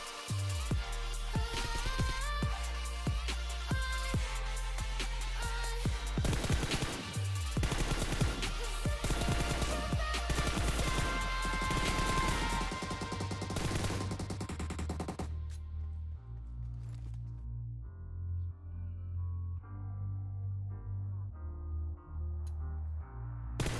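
Dense automatic gunfire from PUBG Mobile crackles rapidly and continuously for about fifteen seconds, then gives way to quieter, sparse shots over a low steady game hum.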